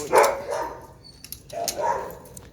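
A playful dog barks in two bursts, loud and close, with growly yips and whines between them during rough play.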